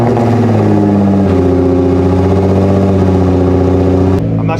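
A widebody, slammed Nissan GT-R engine runs loud and close as a steady, throbbing drone with a slight shift in pitch partway through, then drops away abruptly just before the end.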